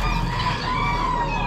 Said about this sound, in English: Oh, rooster here.